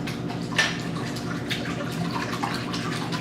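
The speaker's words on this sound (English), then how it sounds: "put the water in." Water poured into a bowl of eggs for an omelette, a short close splashing trickle with soft drips, alone without talk.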